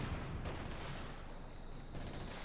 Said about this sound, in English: I think the incendiary artillery is actually setting off the S-mines.